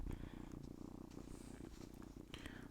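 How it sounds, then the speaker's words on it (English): A cat purrs right against a microphone during a livestream, a soft continuous rumble with rhythmic pulses filling the whole stretch, close and fairly quiet. "Can you guys hear her purring in the mic?"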